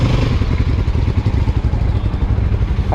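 A Yezdi Scrambler motorcycle with a sensor fault idles up close, its engine thumping in a steady, fast, even pulse throughout.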